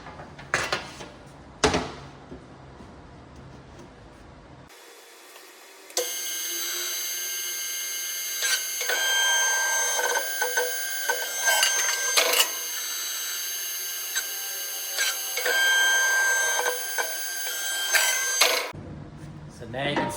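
Sheet alloy being bent and shaped into the body of a custom tank, with ringing metallic clanks, scrapes and taps over a humming machine, someone talking before and after the work.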